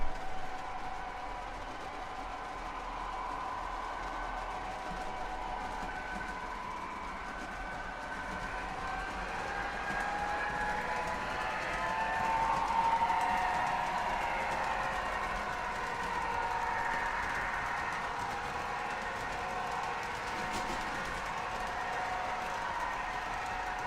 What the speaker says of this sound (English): More PRR diesels.